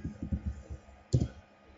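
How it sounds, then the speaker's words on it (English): Keys on a computer keyboard being typed, a quick run of soft clicks followed by one firmer keystroke, close and fairly quiet, with no talking. "hold down the Windows logo key and R, and then you write MS config"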